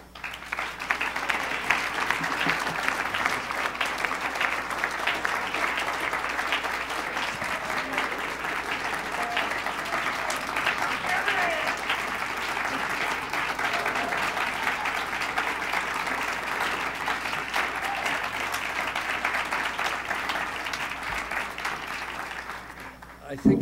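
A large audience gives sustained applause for author Harry Staley at a writers institute event, thick continuous clapping that stays loud and even for over twenty seconds.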